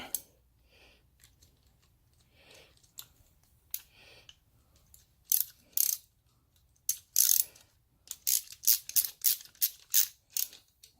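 Ratchet clicking in quick bursts while snugging a handlebar clamp bolt on a Honda Grom MSX125 with aftermarket seven-piece race handlebars, sparse clicks at first, then faster, louder runs of ratcheting.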